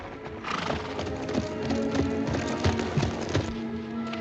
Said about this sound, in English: Three horses got out of the corral last night and they're running loose out there in the pasture.